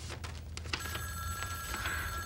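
A telephone bell rings in a room, its ringing tone faint and steady under a low background hum and a few scattered knocks.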